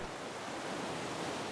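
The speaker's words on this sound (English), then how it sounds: "I can hear the beach." Steady broadband roar of ocean surf breaking on a beach, heard from nearby at a constant moderate level with no voices, like continuous washing waves.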